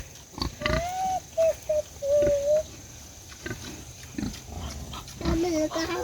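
Pigs on a farm, being readied for the trip to the processor, give scattered grunts and squeals, mixed with close-up human calls and talk across the few seconds.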